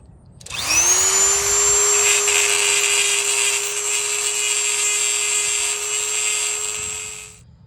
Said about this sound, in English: First thing I'm doing is taking my Dremel. I'm just going to grind this smooth here.